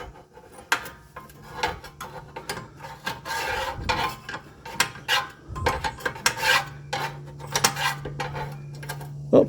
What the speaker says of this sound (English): You have to come over here with your wrench, get it on there, just little turns at a time